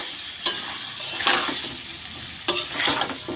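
Chopped raw vegetables for a mixed mango pickle are tossed into oil and stirred, giving repeated bursts of scraping and sizzling at a steady rhythm over a low background hiss.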